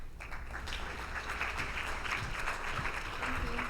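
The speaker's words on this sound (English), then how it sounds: "A round of applause, please." Audience applause at a women's football symposium, a steady wash of clapping that continues evenly throughout at moderate distance, with some faint talk underneath.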